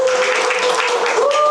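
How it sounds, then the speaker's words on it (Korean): Audience at a Jeju book concert applauds as a guest is welcomed, with brief, busy clapping over a steady tonal hum and a voice faintly present. "큰 박수로 모시겠습니다"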